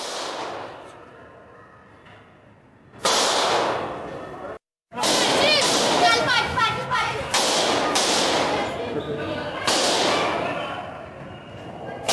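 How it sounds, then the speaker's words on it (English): Loud, sharp gunshots crack repeatedly in bursts inside a Delhi courtroom, echoing harshly, following a quieter stretch with a brief dropout of sound. "Let's just listen to those visuals also, since we can hear the gunshots in them."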